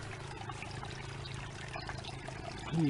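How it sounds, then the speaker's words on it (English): Water trickling and pouring steadily down from rice fields to a lower level through a drainage channel, a continuous close splashing flow that swells slightly at the end. "Water's flowing through to the lower level here."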